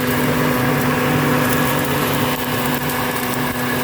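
A Toro leaf vacuum runs steadily close by, giving a continuous whining motor drone with a broad rushing hiss over leafy ground cover, holding a constant level throughout.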